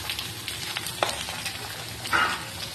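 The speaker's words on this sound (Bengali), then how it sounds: "আলু আর বেগুন ভালো করে ভাজা করে নেব" Eggplant and potato pieces fry in a pan, giving a soft, continuous sizzle with a few brief crackles and a stirring scrape, fairly quiet and with no voices.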